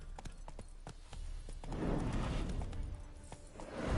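Roach the horse's hooves clip-clop in a video game, a quiet run of distinct beats that thickens into a denser, busier patter of steps partway through, fairly faint and with no voices.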